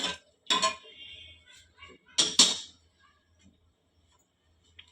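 A metal ladle mashes well-cooked lentils in a pot for sambar, giving a few close clinks and scrapes against the metal in short bursts, followed by near silence.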